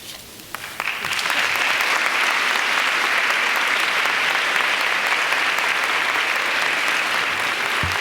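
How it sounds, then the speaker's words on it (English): A commencement crowd bursts into applause for the graduates, starting after a brief quieter moment and then holding a loud, even wash of clapping to the end. "one more round of applause for the graduates"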